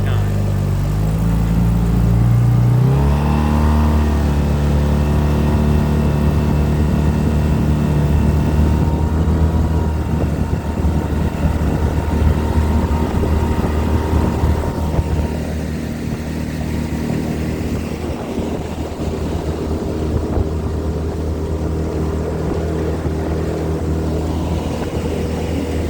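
A 16-foot Sea Ark boat with a 9.9 outboard motor running at speed, the engine revving up in the first seconds and then holding a steady, loud, droning whine with wind and water rush over it.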